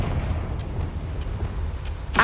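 The Confringo blasting spell in Hogwarts Legacy, heard as a deep, rumbling roar that sustains low throughout and ends with a sudden bright burst of impact.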